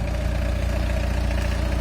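A car engine idles steadily nearby, a low even rumble with a regular throbbing pulse and no voices.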